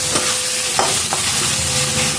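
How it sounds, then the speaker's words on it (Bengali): Steady sizzling of potatoes frying in hot oil, with a few brief stirring scrapes breaking through the continuous crackle. "এবার আলুগুলোকে ভেজে নিচ্ছি"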